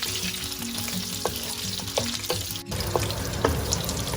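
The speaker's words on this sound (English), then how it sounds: "So in the hot oil, we will first fry the potatoes." Boiled, skinned potatoes fry in hot oil for dum aloo, giving a steady, close sizzle with occasional soft stirring clinks and no talking.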